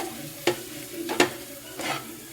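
Prawn roast with chili powder is stirred in a hot pan, giving three quick scraping sweeps over a soft, low sizzle, close and fairly quiet.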